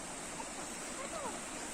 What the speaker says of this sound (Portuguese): Aqui a gente tá numa cachoeira